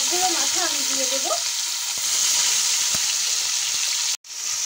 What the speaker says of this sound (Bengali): গরম তেলের মধ্যে এখন আমি মাছের মাথাগুলো দিয়ে দেব।